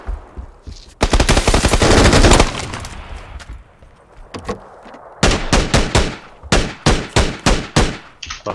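Automatic gunfire in the battle royale game PUBG during a duos match: a long loud sustained burst, a quieter stretch, then a rapid series of sharp close single shots in quick rhythm.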